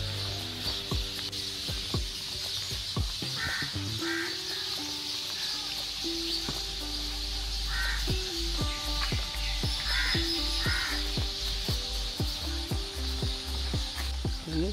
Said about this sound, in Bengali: এখন পাখি কেউ মেউ করতেছে